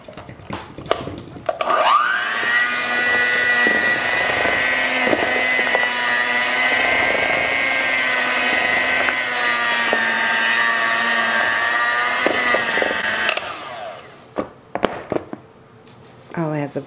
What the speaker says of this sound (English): So now I'll turn my mixer off.